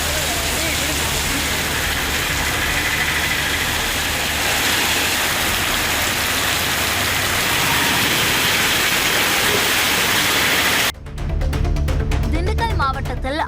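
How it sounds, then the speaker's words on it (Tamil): Rain falls for over half an hour around Thirumangalam in Madurai district, a steady broadband hiss holding evenly for most of the stretch before a sudden cut to other sound near the end. "மதுரை மாவட்டம் திருமங்கலம் சுற்றுவட்டாரத்தில் அரை மணி நேரத்திற்கு மேலாக மழை பெய்தது"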